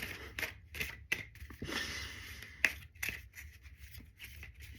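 Soft, quick riffling and slapping of a unicorn-themed card deck being shuffled, a series of close, crisp flutters and taps at low volume.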